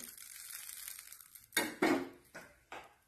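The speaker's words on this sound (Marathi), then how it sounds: "आता आपण त्याच्यात गुलगुले सोडायचे" Wheat-flour gulgule batter goes into oil on a hot tawa: a soft sizzle first, then several sharp metal clinks and scrapes of a utensil against the pan, close and clear with no talking.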